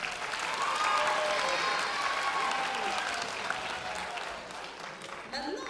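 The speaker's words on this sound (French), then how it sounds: "On peut applaudir quand même." An audience at a cosplay contest during a manga fan event claps steadily for a contestant, a dense, sustained round of applause that tapers slightly toward the end, with a voice faintly over it.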